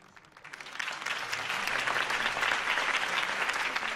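A crowd applauds a campaign speech for a candidate, Harvey Dent, the clapping swelling from a thin start into steady, dense applause that holds at full strength to the end.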